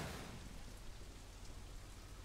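Steady rain falls outside in the Sleeping Dogs video game, a soft, even hiss of drops continuing without a break and with no voices.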